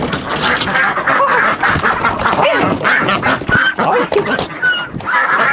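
Ducks quack loudly and continuously, several birds calling over one another in a dense, overlapping chorus that runs throughout with no speech.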